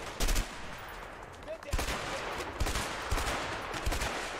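Gunshots in A Way Out, a sharp crack followed by a steady run of separate shots, some louder, some fainter, over a background of game noise with a voice talking faintly at times.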